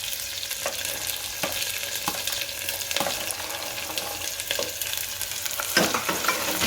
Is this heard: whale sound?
no